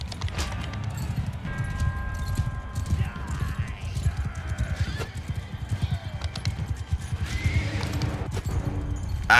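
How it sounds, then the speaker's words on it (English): Horse hooves clip-clop steadily in the medieval combat game Mount & Blade II Bannerlord, close and continuous amid game noise, with occasional whinnies. "Stop that horse!"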